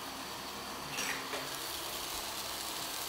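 Sweet bread frying in a pan, a steady soft sizzle running evenly throughout at moderate level, with a brief stir or shift of the pan near the one-second mark.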